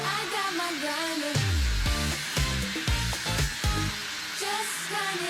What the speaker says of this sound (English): I got my grinder. I'm gonna grind all day.